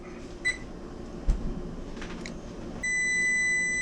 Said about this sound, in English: Well, timer's going off again.